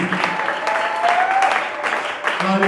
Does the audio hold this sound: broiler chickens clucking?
no